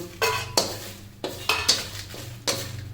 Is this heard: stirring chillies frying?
yes